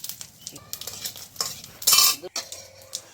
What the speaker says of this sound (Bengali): আমি দুটো জিরে দিলাম, দুটো পাতা দিলাম।